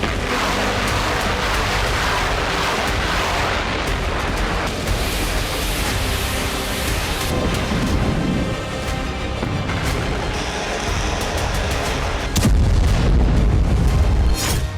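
Dense, loud rumbling booms from downed drones rolling continuously in towns near Kyiv, with a heavier deep thud near the end over a constant noisy background.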